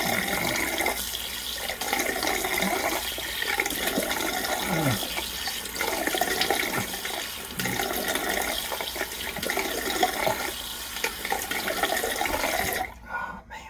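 Tap water runs into a sink for a cold rinse after a shave, a continuous close splashing hiss with small shifts as hands move through the stream, cut off just before the end.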